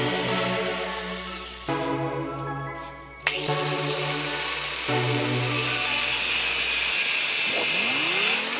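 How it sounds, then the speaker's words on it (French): A power drill bores through small wooden game pieces for a dice game box, its motor whining in steady bursts that stop and restart several times, close and loud, with no talking. "je perce les 20 pièces afin de les monter sur une barre en métal de 4 mm"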